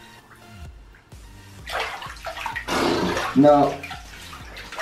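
Water running into a bathtub to top up a bath, a steady splashing rush that swells louder midway, with someone talking over it throughout.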